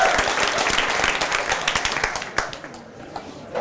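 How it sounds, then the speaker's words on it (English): Audience applause at a coding bootcamp demo day in Amsterdam for presenters taking the stage, brisk clapping from a seated crowd that thins and fades toward the end, with a few last claps. "So please, a bit of applause for Tim,"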